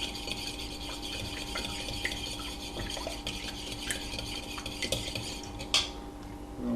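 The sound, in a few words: mixing egg and coconut oil for pie crust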